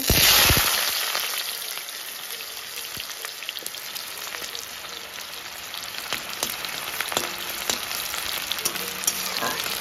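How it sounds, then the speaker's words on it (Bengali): Sliced onions fry in oil in a kadai on low flame for biryani beresta, a dense crackling sizzle like rain, steady and close, with scattered pops and a louder burst at the start. "এবার আমি ব্রেস্তাগুলো ভেজে নেব"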